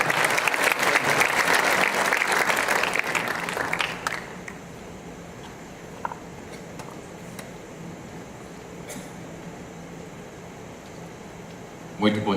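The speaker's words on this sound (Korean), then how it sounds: "올라오실 때요 많은 큰 박수로 부탁드리겠습니다" Church congregation applauding a visiting missionary speaker, a dense burst of clapping that fills the room for about four seconds, then cuts off into quiet hall ambience with a brief clap near the end.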